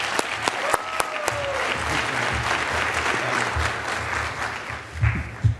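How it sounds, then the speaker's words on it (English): A crowd of students and guests at a National School Choice Week rally gives steady, sustained applause as a representative walks on stage, with dense clapping, a few louder nearby claps and some voices underneath. "I hope you will give him a rousing round of applause as he comes on"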